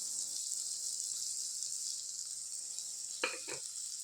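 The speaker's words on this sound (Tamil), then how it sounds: "இதை நல்லா அப்சைட் டவுனாக கலந்து விட்டுடலாங்க" Chickpeas being stirred and mixed in a frying pan: a steady soft sizzle underneath, with a couple of brief scraping strokes near the end.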